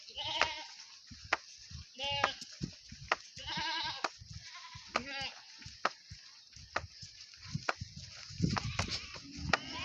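A goat bleats repeatedly nearby on a small farm, its wavering cries spread across the clip with sharp knocks and a person speaking in the background.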